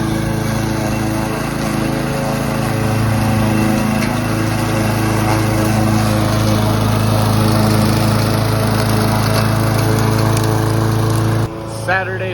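A lawn mower running steadily while mowing a yard, loud and close with a constant engine drone throughout, briefly dipping near the end.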